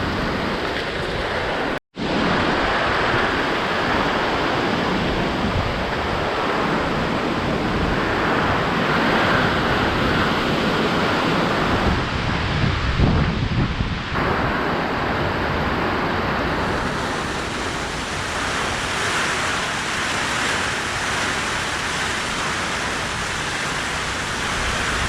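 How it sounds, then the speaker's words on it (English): Hurricane Ida winds of around 60 miles an hour, a loud, continuous roar of broadband wind noise buffeting the microphone, with one brief dropout and a rougher surge midway, no voices. "the winds that you just saw were around 60 miles an hour"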